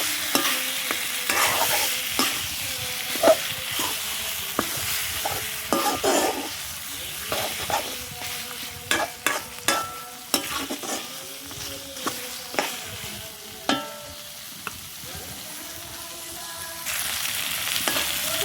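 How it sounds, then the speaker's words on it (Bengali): Chicken pieces sautéing in spices in a pan, a loud continuous sizzle under repeated scraping and stirring strokes of a spatula, close up, with no talk. "মশলার মধ্যে এখন মাংসটা দিয়ে দিব। ভালো করে কষাই নিব।"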